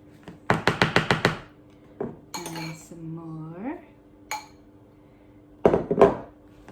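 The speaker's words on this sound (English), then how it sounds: "you fold in with a metal spoon in a figure of 8" A metal spoon folds cake mix in a bowl, giving a quick cluster of sharp clinks against the bowl, scattered scrapes and taps, then another brief burst of clinks, all close and clear with no talk.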